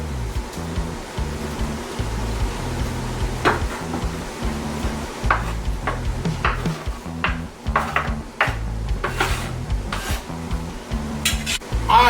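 Small diced onions sizzle while being stir-fried in a pan, a continuous loud hiss with a low rumbling bed, broken by repeated sharp scrapes and knocks of a utensil against the pan.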